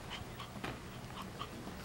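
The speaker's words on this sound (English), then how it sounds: "the dog over here playing with your girl" A dog at play indoors gives soft panting breaths and small whimpers, quiet and close, against a low background hum.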